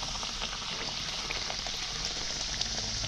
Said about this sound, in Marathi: हे बघा दुसरा वडा सुद्धा आपण टाकलेला तेलामध्ये.